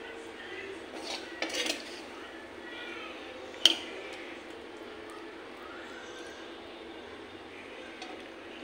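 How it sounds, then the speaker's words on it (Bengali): Cooked vegetable dish being served into bowls, with faint background hum broken by a few light clinks and scrapes of utensils and dishes, including one sharp ceramic tap midway, quiet and without talk. "এখন বাটিতে সার্ভ করে নেব"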